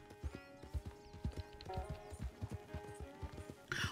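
Horse hooves clip-clop at a steady walking rhythm in the Red Dead Redemption 2 video game, close and clear, with a faint whinny-like tone near the end and no talk over it.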